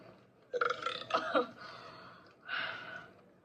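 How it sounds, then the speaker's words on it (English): A loud, drawn-out burp bursts out, followed by a second shorter belch after a pause, with nothing else around it. "And then I burped really loud."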